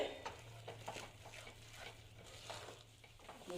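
Chana dal halwa is stirred in a pan with a steady, quiet scraping and soft sizzle, in repeated strokes close to the mic, with a low hum beneath.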